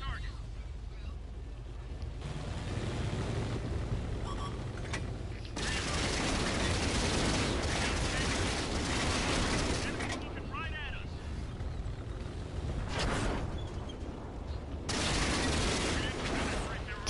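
Gunfire pelting a tank in a video game, rapid bursts of shots and metallic rattles and pings in repeated volleys, with a voice talking through parts of it.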